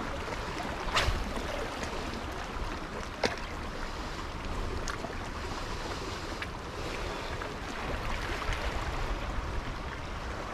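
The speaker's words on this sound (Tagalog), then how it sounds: "Ang lakas ng alon oh." Rough sea waves slapping against a small fishing boat in strong amihan wind, continuous wash and wind buffeting on the microphone with occasional sharper splashes.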